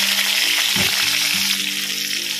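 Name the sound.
cumin seeds and tomato frying in oil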